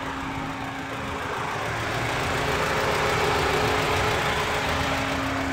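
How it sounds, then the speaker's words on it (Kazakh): A 1994 Volkswagen Passat B4 sedan idles quietly and evenly, a smooth steady engine hum with a faint low drone, heard close up with outdoor noise around it and no talk. "Мотордун жүрүшү өтө тынч."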